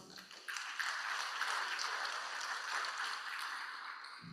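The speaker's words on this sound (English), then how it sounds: "Please give a round of applause." Audience applause at a ministerial meeting on science and technology, clapping swelling in after a brief quiet start and holding steady at moderate level, fairly distant and without talk.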